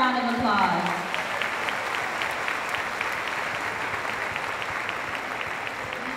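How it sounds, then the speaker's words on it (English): Audience applause at a school district end-of-year awards ceremony honoring years of service; a voice speaks briefly at the start, then a broad, even round of clapping from a large crowd continues steadily to the end. "let's give all the years of service one more round of applause"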